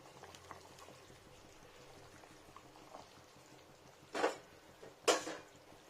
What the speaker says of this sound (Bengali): দেখুন এটা ফুটতে শুরু হয়ে গেছে